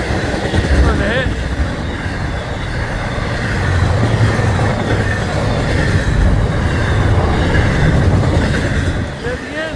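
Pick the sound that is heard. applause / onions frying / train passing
train passing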